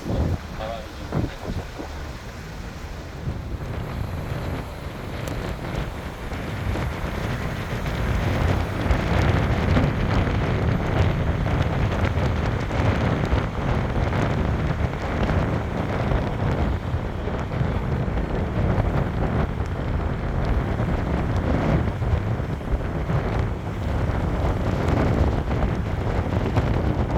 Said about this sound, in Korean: 파도가 조금 있어. 바람이 좀.